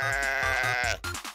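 A sheep bleats in the Minecraft video game, one long wavering bleat up close, then game music and soft background sounds.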